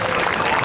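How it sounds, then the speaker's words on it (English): A brief burst of dense crowd applause at Oga's Cantina, loud and close, with many hands clapping at once. "Give them a round of applause."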